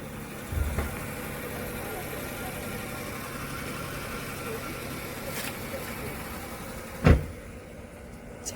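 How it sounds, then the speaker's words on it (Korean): A steady low engine rumble runs throughout, like a car idling or passing nearby, with a couple of brief knocks. "차가 시끄러워서 영상을 잠깐 멈췄습니다."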